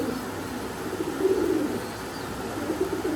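Pigeons of an imported high-flying bloodline coo in a low, soft murmur, with faint chirps over steady background noise.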